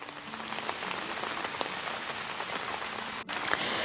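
Steady rain patters down on a large vegetable garden with green beans and marigolds, a dense, even hiss of drops close by, with a brief dip and a sharp knock near the end.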